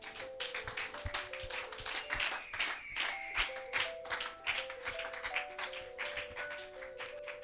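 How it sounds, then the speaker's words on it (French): A church congregation claps rhythmically along with keyboard music during worship, a steady dense patter of many hands in a reverberant hall, moderately distant and fairly faint. "Acclamons fortement notre Dieu."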